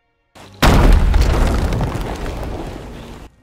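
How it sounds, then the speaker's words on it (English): A rowboat crashes into Golden Sands in a video game, setting off a single loud, deep explosion that booms suddenly and then rumbles away over a few seconds. "the last thing remaining to do is to kamikaze your rowboat into Golden Sands"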